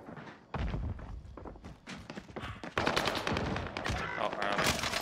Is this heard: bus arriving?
no